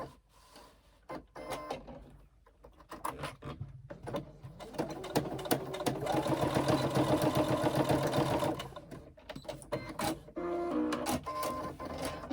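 A sewing machine runs steadily while basting the edge of a backpack strap, a close whirring stitch rhythm that starts and stops in short runs.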